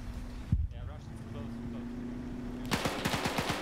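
Bursts of MP40 submachine gun fire in a large World War II online battle between German and Soviet forces, a rapid string of sharp reports near the end, preceded by a lone shot and a steady background drone.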